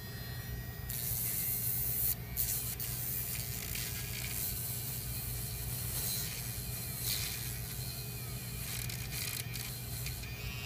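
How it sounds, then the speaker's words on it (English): A rechargeable Magicfly electric pet nail grinder works on a human fingernail, giving off a steady, close buzzing whir that barely changes from start to finish. "And so here's my nail. Here's the grinder."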